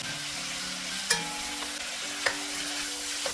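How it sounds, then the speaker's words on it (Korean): Seasoned beef with minced garlic stir-fries in a pan, giving a steady close sizzle broken by a couple of sharp scrapes and taps as the spatula stirs the meat. "여기에 다진 마늘 3분의 1 큰술 넣고 섞어가며 볶아주세요."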